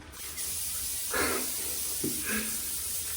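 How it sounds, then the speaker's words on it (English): Hairspray is sprayed onto hair in two short, close hissing bursts over a steady airy background. "You can make your hair stay the way you want it if you use hairspray and stuff."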